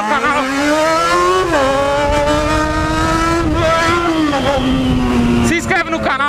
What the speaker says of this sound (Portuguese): Eu vou acelerar essa moto aqui que eu ganho mais.